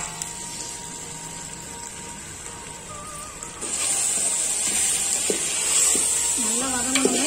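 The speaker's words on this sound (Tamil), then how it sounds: "நல்லா வதங்கணுங்க" Chicken fries in a pan while being stirred, a low simmering hiss that turns into a louder, brighter sizzle about halfway through, with occasional scrapes and a voice talking near the end.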